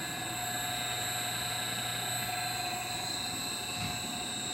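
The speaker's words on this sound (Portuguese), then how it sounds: "E o motor nesse momento ele está operando com velocidade plena, com velocidade nominal" An electric motor running at full nominal speed, fed at about 60 Hz, gives a steady, even hum with high whining tones, constant and moderately faint throughout with no talk.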